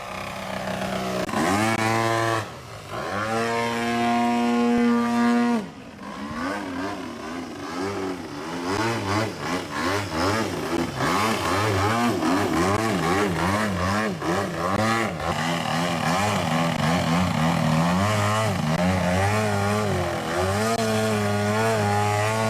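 Extreme Flight Turbo Bushmaster RC airplane with a loud, continuous engine drone that swells and revs with shifting pitch as it passes and maneuvers, steady and close throughout with no talking.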